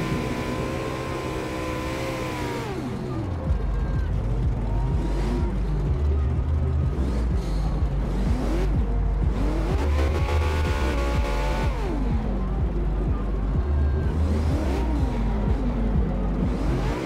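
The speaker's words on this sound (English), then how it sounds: "It's the McLaren F1." McLaren F1 engine in a Forza racing game: a loud, close revving roar that climbs and falls through repeated gear changes, with a steady high engine whine throughout.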